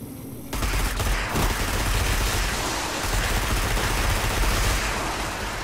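Sustained gunfire in the online shooter Destiny 2, a loud, dense fusillade of overlapping shots and blasts that keeps going for several seconds with no talking.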